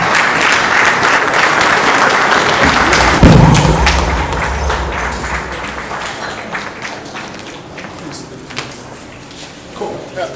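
Audience applause at a business event, a loud dense burst of clapping with a thump early on that fades gradually, as voices and crowd murmur carry on underneath.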